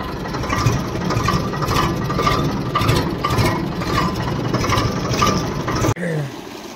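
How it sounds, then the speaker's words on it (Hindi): A motor running steadily in a farm field beside a tractor, a loud, close mechanical drone with a regular pulsing beat, continuing until a sudden cut near the end. "मोटर चल रही है अपनी।"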